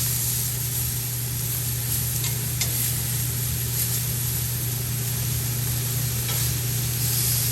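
Filet mignon sears in a hot pan as its edges brown, a steady loud sizzle over a constant low hum, with occasional faint clinks and no speech.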